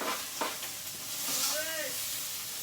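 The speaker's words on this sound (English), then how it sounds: "I'm going to just toss these onions" Onions tossed in a hot frying pan give a steady, close sizzle with a couple of clattering stirs, while a faint voice and a brief whine sound in the background.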